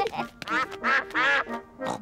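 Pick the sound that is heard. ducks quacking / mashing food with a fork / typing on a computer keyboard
ducks quacking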